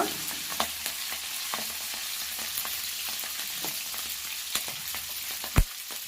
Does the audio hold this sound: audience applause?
no